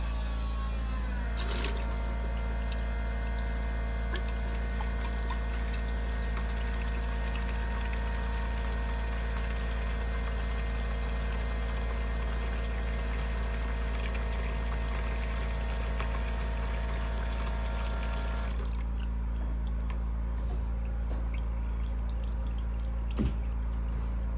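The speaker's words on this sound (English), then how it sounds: "Let's drain some fuel out." Fuel drains out of a Honda in a steady, continuous rushing flow over a constant low hum, unbroken for over twenty seconds before the sound thins out near the end.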